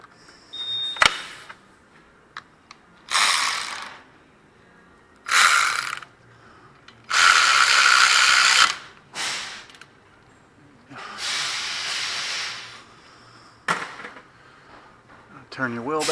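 A ratchet wrench tightening a 12mm brake line nut on a Honda during axle and transmission seal work, close clicking bursts in several separate runs with pauses between them, no talk.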